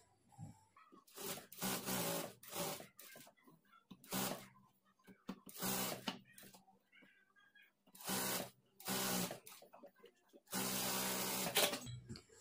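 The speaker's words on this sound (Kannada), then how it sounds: "ಲೈನಿಂಗನ್ನು ನೀಟಾಗಿ ಸರಿ ಮಾಡಿಕೊಂಡು ಸುತ್ತಲೂ ಒಂದು ಸ್ಟಿಚ್ ಮಾಡ್ಕೊಳ್ಬೇಕು" Sewing machine stitching lining around puff sleeve fabric in several separate bursts, each running a second or two at a steady buzzing whir with short pauses between them, close and fairly loud.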